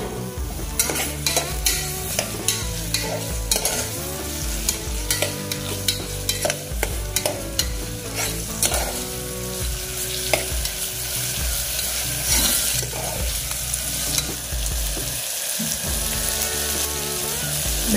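Onion, tomato and curry leaves fry in a pan for eggplant gravy, a continuous close sizzle broken by frequent clacks and scrapes of a spoon stirring against the pan.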